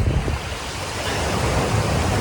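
Sea waves wash steadily onto an empty beach at Kuakata, a continuous close roar of surf mixed with wind buffeting the microphone, with no voices.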